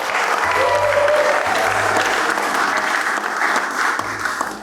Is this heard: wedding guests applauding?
yes